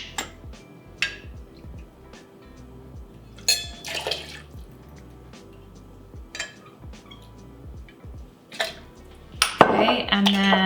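Vodka being measured and poured into a cocktail glass for a holiday drink, with clinks of glass and metal, a soft trickle of liquid, and a louder clatter of dishes near the end.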